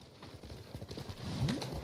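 Horse hooves clop rhythmically on the ground in the video game Ghost of Tsushima, a steady quiet trotting patter with a faint neigh-like sound near the end, heard alone.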